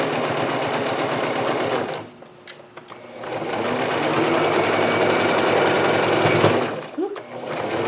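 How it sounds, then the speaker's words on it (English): A sewing machine runs a regular stitch along the old hem of a pair of jeans, its steady close motor whir pausing briefly partway before starting up again and continuing. "I'm just going to sew a regular stitch."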